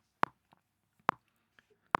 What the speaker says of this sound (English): Now if I put the click on, which is going to be at 70 beats per minute